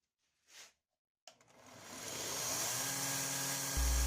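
A power tool whirs up after a brief tap and spins steadily while sanding a wooden knife handle, a loud continuous buzzing grind that grows fuller and louder toward the end.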